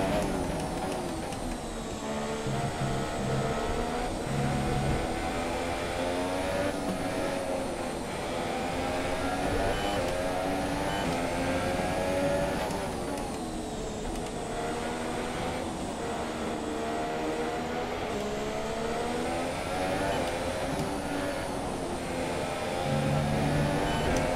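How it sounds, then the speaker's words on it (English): A Haas Formula 1 car in the F1 2017 racing game runs at full throttle through Eau Rouge at the Belgian Grand Prix, giving a continuous high-revving engine whine with shifting pitch that stays loud and steady, with no talk. "I go full throttle through Eau Rouge"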